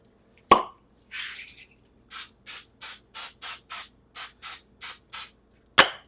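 Cooking spray hisses onto a pan in a series of short, evenly spaced bursts, about a dozen in all, close and fairly loud, with sharp clunks at the start and end and a quiet background.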